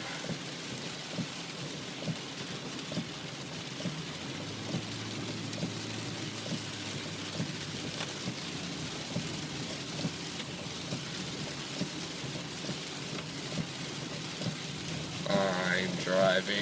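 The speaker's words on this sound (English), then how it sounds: "I'm driving in the rain." Heavy rain drumming on a car while driving through a thunderstorm, a steady, moderately quiet downpour with low rumbling thunder underneath and a brief louder burst near the end.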